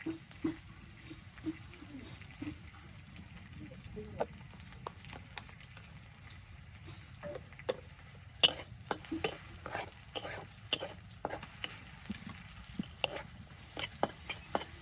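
Cumin seeds crackle and sizzle in hot oil in a Bangladeshi village kitchen, a steady low frying hiss broken by sharp, irregular pops that grow denser and louder toward the end.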